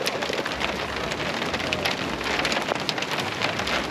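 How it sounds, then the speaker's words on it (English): Small hail pelting a campsite on a Colorado backcountry loop makes a dense, continuous patter of tiny impacts, fairly loud and steady throughout, with no one speaking. "And it's actually hailing right now."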